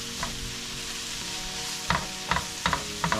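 Abalone and onion frying in a hot pan, a steady loud sizzle with a few sharp clicks and scrapes as the pieces are stirred and kept moving.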